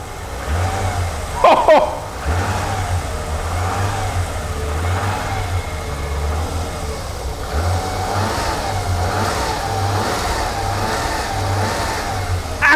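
A BMW E21 323i engine with a leak revs up and down in repeated throttle bursts over a steady running rumble, with a brief exclamation early on.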